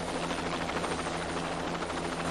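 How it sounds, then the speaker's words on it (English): Jet Ranger helicopter in flight, a loud close continuous rotor and turbine roar with a steady low beating pulse throughout, and no voices. "This private jet ranger helicopter, piloted by a Vietnam veteran"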